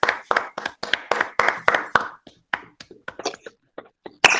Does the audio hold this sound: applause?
yes